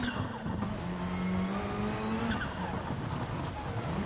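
A rally car in GT Sport slides under hard handbrake, its engine droning loudly and steadily with tire scrub throughout, no voices over it.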